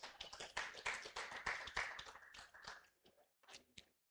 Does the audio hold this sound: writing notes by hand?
no